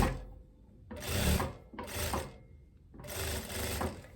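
A sewing machine stitches a seam on a loose viscose dress in three short, close bursts of rapid whirring stitching, each followed by a brief pause, with no talking.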